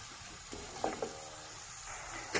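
Onions sizzle as they fry in a pan for a chicken dish, a soft steady hiss close by with a few faint clicks and stirring scrapes.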